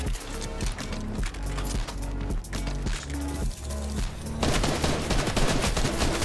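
Rapid bursts of gunfire in the video game Fortnite crack out in quick, loud clusters, with a heavier barrage near the end.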